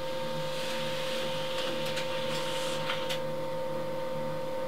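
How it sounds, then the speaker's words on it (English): A laser printer hums steadily while printing a document sent wirelessly from a phone, with faint mechanical clicks and paper movement in the background. "you can hear in the background the printer printing"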